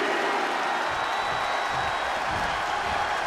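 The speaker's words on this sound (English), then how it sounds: "The WWE Universe is showing their appreciation for the action they're seeing." A wrestling arena crowd at an AEW Dynamite match applauds in a steady, diffuse wash of clapping and murmur, distant and moderately loud, with no break.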